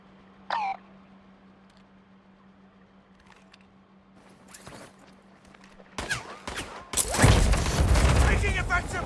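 Bursts of gunfire ring out in Call of Duty: Modern Warfare II, starting with scattered shots and building into dense, loud automatic fire near the end, mixed with short voice callouts and a low steady hum.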